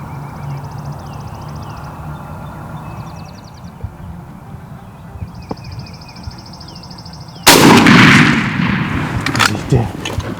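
A single loud gunshot blasts during a turkey hunt in the field, cutting through quiet outdoor ambience and a faint background whine, then a long rumbling tail of echo and rustle follows.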